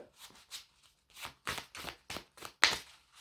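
A deck of cards is cut and handled during a card reading: a series of short, soft papery riffles and slaps comes in quick bursts, close and fairly quiet, with no talking.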